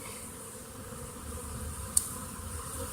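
A honeybee swarm being poured into a hive gives a faint, steady insect hum, quiet and continuous, with one brief sharp click partway through.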